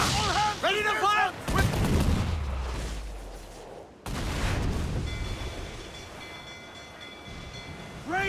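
Ship cannons boom in a naval battle in Assassin's Creed IV Black Flag, with heavy blasts and a long rumbling tail over the battle din, after a brief shouted voice.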